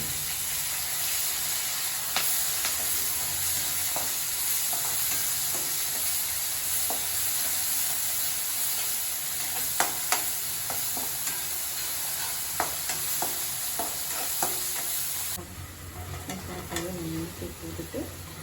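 Ground onion paste with curry leaves sautéing in a pan for an ayira fish curry, a steady sizzle under repeated sharp scrapes and clinks of a stirring spoon, quieting slightly near the end.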